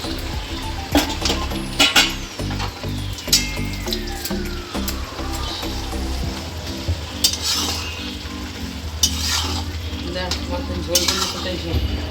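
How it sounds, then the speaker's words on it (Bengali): Small fish chorchori cooking in a pan, with a steady sizzle, stirring scrapes and occasional utensil clinks against the pan running throughout. "এখানে ছোট মাছের চচ্চড়ি দিদা রান্না করছে"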